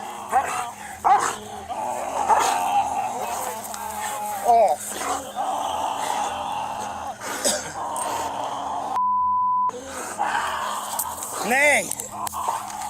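A dog barks, yips and whimpers in short bursts near the microphone, while a person talks and pleads distressed over it.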